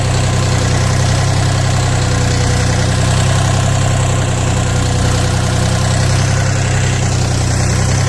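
A Dongfeng 244 DHX minitractor's engine under load while driving, a loud, constant low diesel drone with a rattling mechanical throb that holds steady throughout and has no voices over it.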